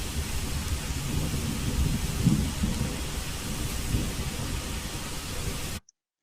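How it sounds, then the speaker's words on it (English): Continuous heavy rain with rolling thunder in a 3D spatial audio demo, steady and loud throughout, cutting to silence at the end. "you can hear the thunder above you, the raindrops externalized and all around you"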